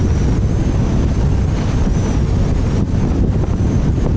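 Strong wind of about 15 m/s over open water buffets the microphone in a loud, continuous low roar with waves and a boat beneath it.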